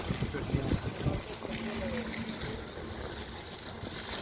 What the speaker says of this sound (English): it's quite windy here at the moment